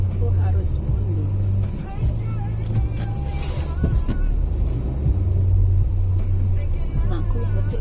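Car engine idling and rumbling at low pitch while the vehicle reverses into a home driveway, a steady close drone with brief shifts, and someone speaks over it.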